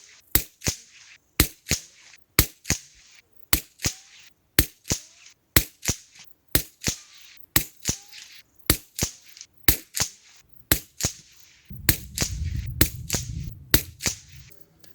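Suppressed Anschütz rifle firing RWS Subsonic Hollow Point rounds at a 50 m range: about twenty sharp, evenly spaced cracks, moderately loud and close, with a low rumbling noise building near the end.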